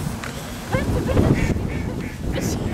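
Several ducks quack in bursts outdoors, overlapping with faint talking and background noise.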